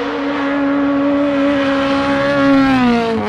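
A race car at the Subida a Chantada hill climb roars past nearby, its engine note holding a strong steady tone and then dropping in pitch as it passes, loud and continuous with no voices.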